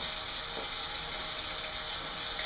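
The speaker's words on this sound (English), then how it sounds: "So I'm going to rinse these off quickly." Tap water runs steadily over salmon fillets in a kitchen sink as they are rinsed, a constant close hiss and splash with no pauses.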